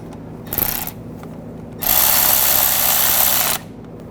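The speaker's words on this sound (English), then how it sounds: "Put the nut on, and make sure those are tight." Nuts being driven tight with a power tool during alternator replacement on a 2006-2010 BMW 550i, a short whirring burst then a longer steady high-pitched buzz, close and loud, with no talking.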